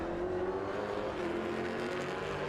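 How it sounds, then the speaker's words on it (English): Engines of V8 race cars at Calder Park drone steadily at a race start, a continuous roar heard from a distance with no voices. "green flag arrives, and that massive thump of these 3 V8s out in front"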